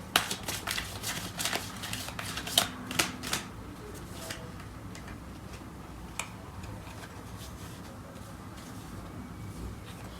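A deck of tarot cards is shuffled during a reading. Brisk riffling snaps come in a short cluster over the first few seconds, then a few scattered soft card taps follow, all quiet and close with no talking.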